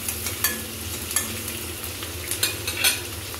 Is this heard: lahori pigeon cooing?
no